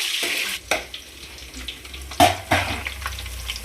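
Onion pieces and green chillies sizzling in a pan for sambar, a steady soft frying hiss with a few sharper stirring scrapes and spikes, close and without talk.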